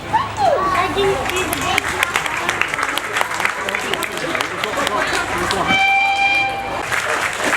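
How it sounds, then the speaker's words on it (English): A crowd claps steadily in sustained applause after a police dog demonstration at an outdoor police open day, a dense patter of hands filling the space with a few brief tonal sounds near the end. "Round of applause for PC Firth and Police Dog Basti."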